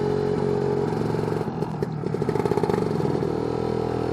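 A Lambretta scooter with a BGM Pro MZ30 exhaust pulling steadily in third gear, a loud, close two-stroke engine drone with a rattling, pulsing edge and no talk.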